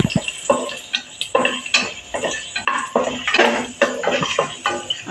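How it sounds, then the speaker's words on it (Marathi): Whole spices are being stirred in hot oil in a home kitchen pan for veg pulao, with repeated clinks and scrapes of a metal spoon against the pan and a soft sizzle underneath. "छानपैकी आपलं तेल तापलं आहे त्यामध्ये मी खडे मसाले घातले आहेत तर आपण हे चांगलं परतून घेऊया"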